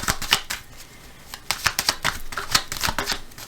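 Tarot cards shuffled and drawn from a deck, a close, papery riffle of quick slaps and flicks in uneven bursts, with no voices.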